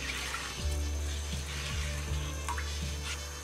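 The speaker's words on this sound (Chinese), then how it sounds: "开火把汤汁煮开" A pot of brine made from vinegar, soy sauce, salt, white sugar and water heats toward a boil, giving a steady close bubbling hiss with a few soft pops and clinks.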